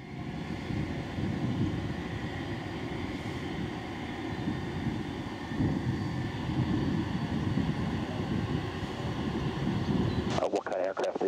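A Thomson Airways Boeing 787 Dreamliner on approach to land at Manchester Airport gives a steady, loud, broad engine roar that holds for about ten seconds before cutting off abruptly.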